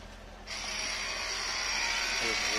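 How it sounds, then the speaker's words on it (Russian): Loud, steady electric whine of a Mercedes W221 air suspension compressor that switches on about half a second in and runs continuously to the end, heard close up. "Вот звук компрессора."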